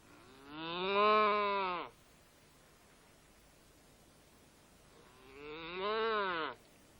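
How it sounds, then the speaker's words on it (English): A cow moos twice, each call long, loud and close, separated by a few seconds of quiet night air in a cartoon scene. "Noddy, it's only a cow."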